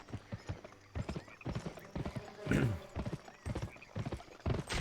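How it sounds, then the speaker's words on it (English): Rhythmic clopping of horse hooves at a quick gallop in the PS2 video game Gun, close and steady, with a whinny rising briefly in the middle. "Now I have 2 horses."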